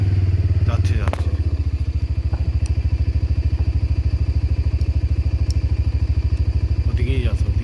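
A motorcycle engine runs steadily in low gear at night on a dark national highway, its pulsing mid-range drone loud and continuous and close by, with people talking over it.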